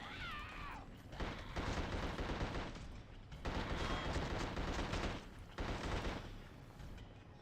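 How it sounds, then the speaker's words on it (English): Tommy gun fire from The Suffering on PS2, sustained automatic bursts in several long stretches separated by short pauses, loud and close with no talking. "You know your lead character's a badass when he can hold the Tommy gun in one hand while running."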